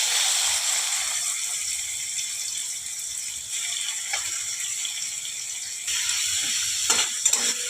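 Prawns seasoned with turmeric and salt fry in hot oil in a pan with a soft, steady sizzle, broken by a few light rattles and clicks near the end.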